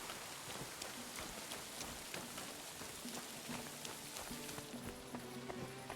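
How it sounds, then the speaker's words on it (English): Soft, steady rainfall patters with scattered raindrop ticks, faint and even throughout, with a few quiet tonal notes surfacing near the end. "Yay, rain."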